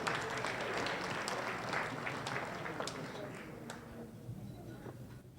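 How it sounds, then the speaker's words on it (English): Audience applause at a business forum, a steady wash of many hands clapping that fades gradually over several seconds, heard alone without talk. "Let's give them a big round of applause."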